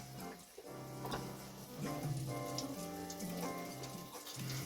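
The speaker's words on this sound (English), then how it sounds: "Listen to that sizzle." Battered ribs deep frying in hot oil make a steady crackling sizzle with scattered pops, fairly quiet and with no talking.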